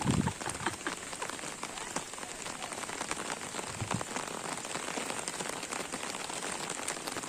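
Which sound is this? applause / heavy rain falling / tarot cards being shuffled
heavy rain falling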